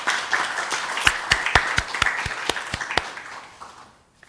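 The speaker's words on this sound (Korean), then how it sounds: "박수로 맞아 주시기 바랍니다." An audience gives a short round of applause at a formal event, with several distinct sharp claps standing out close by amid a softer crowd patter that fades away after about three and a half seconds.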